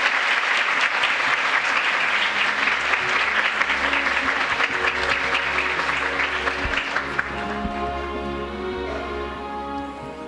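Sustained audience applause fills a youth peace conference hall, loud and dense at first and then thinning gradually toward the end, with a low steady hum of the room beneath.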